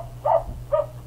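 A dog gives two quick barks close to the microphone, half a second apart, over a low steady hum, with no voices.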